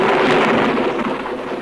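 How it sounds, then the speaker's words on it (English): A cartoon thunder effect for a lightning strike in a Yogi Bear Little Red Riding Hood story: a loud, dense roar of thunder that stays steady for under two seconds, with no voices. "And he was struck by lightning."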